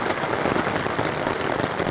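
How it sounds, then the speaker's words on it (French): Heavy rain pouring down during a stormy spell on a long-distance hike in Italy, a dense steady hiss of drops hitting surfaces nearby, continuous and fairly loud with no voices. "Et là, une belle pluie encore."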